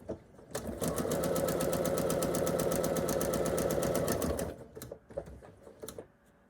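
A sewing machine stitches quilt blocks in a continuous chain, its rapid needle chatter running steady and close for several seconds before stopping, followed by a few light clicks and handling noises.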